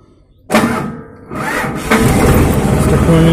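A Sonalika 45 DI RX tractor in neutral cranks over and fires up after a short quiet moment, surging loudly, dipping briefly, then settling into a heavy, steady diesel idle close by.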